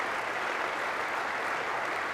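A sizable crowd at the 1999 inauguration of Maine Governor Angus King applauds the exiting Maine National Guard color guard, a dense, even wash of many hands clapping that stays steady and continuous throughout.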